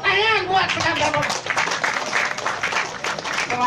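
Audience applause at a Balinese Calonarang temple festival performance, dense sustained clapping from a crowd with a voice speaking over the start, loud and continuous throughout.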